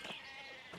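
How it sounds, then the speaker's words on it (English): A sheep bleats in the medieval-village video game Pentiment, a short, wavering, nasal bleat heard clearly and close, with no talk over it. "just let all the sheep roam around in the town."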